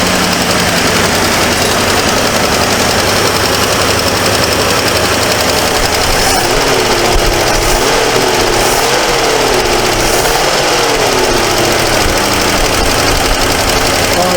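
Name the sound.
1978 Ford Mustang II engine idling with a misfire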